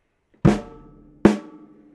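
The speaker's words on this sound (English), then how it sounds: "I play the bass drum and the snare drum together, and then I play a snare drum alone" Two drum hits spaced under a second apart, each a deep thump with a sharp snare crack, ringing out briefly into silence.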